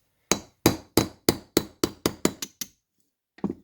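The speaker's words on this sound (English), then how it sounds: "Now I'm going to drive out this pin." Hammer tapping out a pin on an M16-pattern rifle, a Squires Bingham Armscor M1600: about ten sharp metallic taps, quickening and fading, then a brief pair of lighter knocks after a pause.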